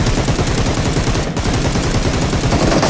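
Dense, nonstop automatic gunfire fills a PUBG match on the Erangel map, rapid shots blurring into a loud continuous rattle.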